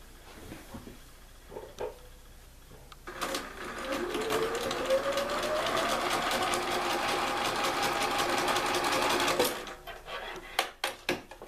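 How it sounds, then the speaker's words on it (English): A sewing machine stitching quilt block pieces, running in one steady close whir for about six seconds that rises in pitch as it speeds up, with a few handling knocks before and after. "now I'm gonna sew it"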